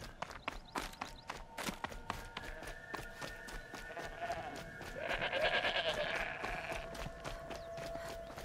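Sheep or goats bleat in Horizon Zero Dawn, with a drawn-out animal call in the middle of the stretch. Footsteps crunch steadily through the start, and the background ambience stays quiet.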